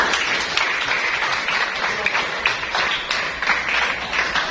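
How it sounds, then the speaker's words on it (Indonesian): An audience at an education supervision session claps together in a steady, continuous round of applause, fairly loud and dense throughout, with no voices over it. "Tepuk tangan dulu untuk"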